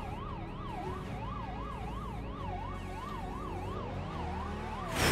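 A car siren in the Roblox video game wails in a steady up-and-down pattern, loud and continuous throughout over a low engine hum, with a brief burst of noise at the very end.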